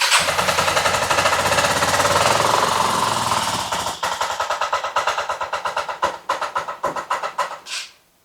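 A 1984 Yamaha Riva 180 scooter engine fires and runs with a loud, rapid two-stroke-like chatter, then sputters in uneven pulses and dies out after a few seconds.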